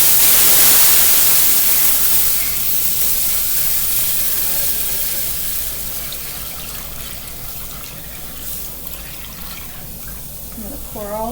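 Sausage gravy steams and sizzles loudly in a hot pan, a dense hiss that slowly settles over several seconds, with a voice talking nearby.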